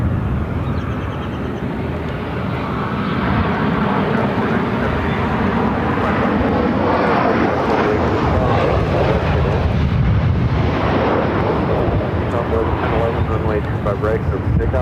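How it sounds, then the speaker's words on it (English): A Southwest Boeing 737-700 jet arriving from San Antonio at Phoenix airport, a loud, steady broadband engine roar that holds throughout and swells slightly toward the middle, with wind buffeting and voices faintly underneath. "This is Southwest Flight 2566 coming in from San Antonio on a 737-700"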